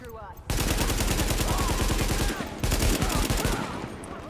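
Rapid automatic gunfire from Tom Clancy's The Division, loud and sustained in dense bursts with a brief lull partway through before firing resumes.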